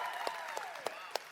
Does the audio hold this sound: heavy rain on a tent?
no